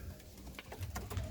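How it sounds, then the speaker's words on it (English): Capuchin pigeons in a breeding loft in Jamaica give soft, low, repeated coos close at hand, with faint rustling between calls. "pigeon here."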